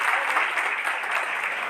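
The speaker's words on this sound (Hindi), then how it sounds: "डॉक्टर सुनील कुमार जी का सासाराम की धरती पर आप लोग जोरदार तालियों से हार्दिक अभिनंदन एवं स्वागत करें।" Enthusiastic crowd applause welcomes a popular MLA at a public gathering in Sasaram, steady dense clapping filling the whole moment without any voices.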